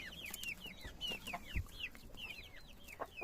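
Several chickens and chicks cluck and chirp in quick, overlapping calls, with occasional low thumps in the background.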